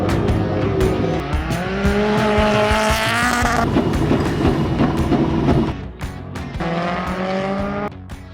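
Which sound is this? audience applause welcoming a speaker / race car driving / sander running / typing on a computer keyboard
race car driving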